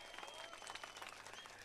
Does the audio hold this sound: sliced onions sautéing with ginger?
no